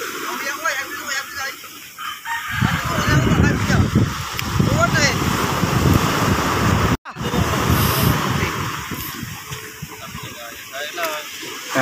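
Rough sea waves around a small boat out net fishing, giving a broad rushing wash mixed with wind noise, with someone talking over it throughout and a brief dropout midway.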